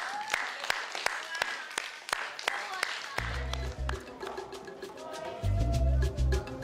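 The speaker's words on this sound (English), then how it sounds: "Come have a round of applause for all of you." A small group claps in scattered, distinct hand claps at first, and then heavy low rumbling and a voice break in over the clapping.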